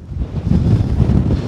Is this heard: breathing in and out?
no